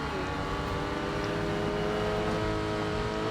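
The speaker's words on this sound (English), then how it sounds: "I think that's the car cackling." Race car in the video game GRID Legends with its exhaust crackling over a steady, loud engine drone, faint popping bits riding on the continuous roar throughout.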